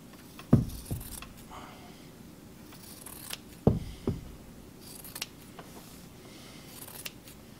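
Scissors snipping off Irish pennants during a Strickler #728 weaving project, heard as two sharp close cuts, each a crisp double snip, spaced a few seconds apart amid quiet handling noise.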